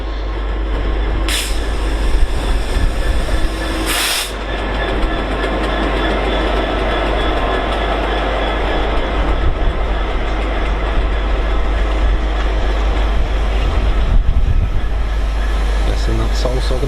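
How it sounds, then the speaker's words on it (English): A Class 66 diesel freight locomotive hauling a Hams Hall to Felixstowe freight passes on a main line, giving a steady loud rumble of engine and rolling wagons with a couple of brief sharp bursts, and a voice is heard talking over it. "Next up on the freight movement is Hans Hall to Felixstowe, operated by"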